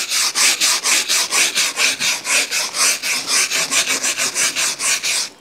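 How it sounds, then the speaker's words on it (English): A wire brush scrubs grit off a timber log for dovetail log cabin rafters, pressed down hard in fast, even back-and-forth strokes. About thirty loud, close rasping passes run in a steady rhythm with no talk. "And I really bear down with that wire brush."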